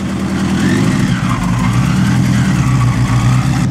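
A vintage V16 Cadillac runs at a classic car concours, its engine note a loud, steady, close rumble with a slight rise and fall, heard alone without voices.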